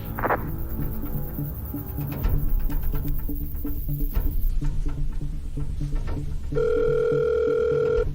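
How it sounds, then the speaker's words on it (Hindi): An electronic telephone tone sounds over a busy, droning background, ending in a steady, loud ringing tone near the end. "जीन, मेरे फोन पर एक कॉल आई थी"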